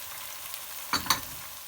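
Onion, tomato paste and chickpeas sauté in a pan for a sour topalak stew, a low steady sizzle with two short stirring scrapes near the middle, no voices.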